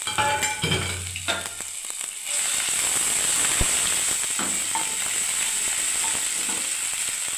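Garlic paste hitting hot oil in a pan, a sudden loud burst of steady, dense sizzling and frying that carries on continuously after a few clinks and scrapes at the start.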